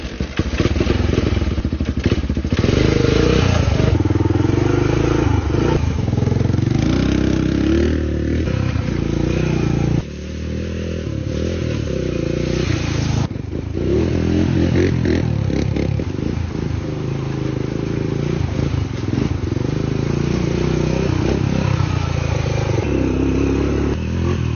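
Old three-wheeler motorcycle engine running steadily and loud up close, a rough clattering putter with crackles and occasional rev changes, continuous for the whole stretch with almost no talk.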